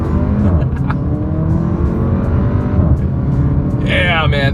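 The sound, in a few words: 2024 Porsche Macan SUV accelerating on a straightaway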